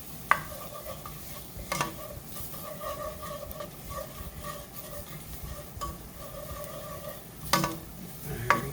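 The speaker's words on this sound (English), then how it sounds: "Now this you want to stir thoroughly. Just want to cook out that flour taste" Flour mixture for broccoli cheddar soup stirred in a soup pot, a low bubbling sizzle with recurring scrapes and clinks of a spoon against the pot, close up with no talking.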